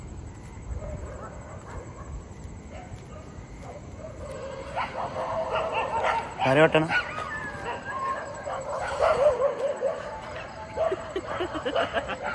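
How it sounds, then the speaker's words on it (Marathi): A few sharp dog barks and yips ring out at moderate distance at Kashid Beach, mixed with people talking over steady outdoor background noise. "कुत्र्या येत आहेत"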